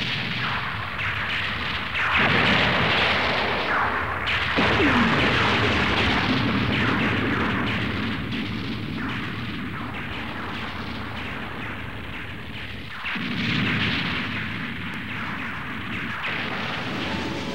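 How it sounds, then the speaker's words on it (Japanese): Explosions tearing through the A Baoa Qu space fortress in a Mobile Suit Gundam anime battle, heard as deep rolling booms and rumbling blasts that swell and fade in waves, loud and dense, with no voices. "ホワイトベースもまたア・バオア空の爆発に飲まれていく。"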